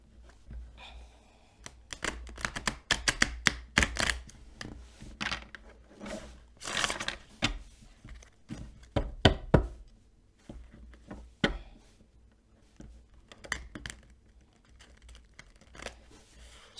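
Tarot cards shuffled close by in irregular bursts of riffling and papery slaps, quiet overall, separated by short pauses.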